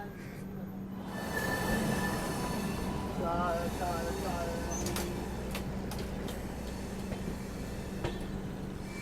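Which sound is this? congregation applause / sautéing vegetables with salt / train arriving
train arriving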